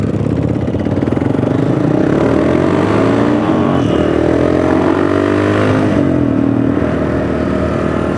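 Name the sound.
Yamaha Bolt motorcycle engine running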